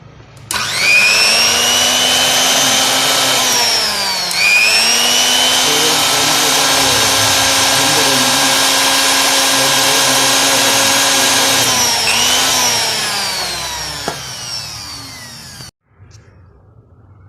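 A repaired blender, newly plugged in, runs with a loud, steady motor whine and buzz close by. The pitch dips briefly twice, then the motor cuts off abruptly.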